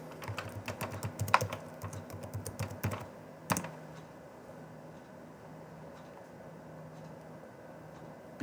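Fast typing on a computer keyboard in a quiet room, with rapid clattering keystrokes for about three seconds, a final sharp key press, then faint background hum.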